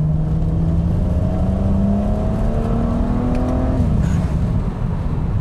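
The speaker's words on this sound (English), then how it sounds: "Third gear pull." A lowered car fitted with bigger wheels pulls hard in third gear, its engine note climbing steadily and loudly for several seconds before easing off, heard from inside the cabin with no voices.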